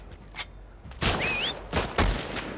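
Gunfire in The Last of Us Part II, a few separate loud shots spaced across a couple of seconds, with a short whistling sound between them.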